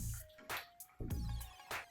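Tap water, just under a cup, is poured out in a science demonstration, heard as splashy trickles and drips that come in several short irregular bursts, close by and fairly quiet.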